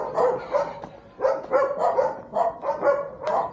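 Dogs bark around a residential subdivision in the Philippines, a fairly close run of repeated barks and yips in uneven bursts filling the whole stretch.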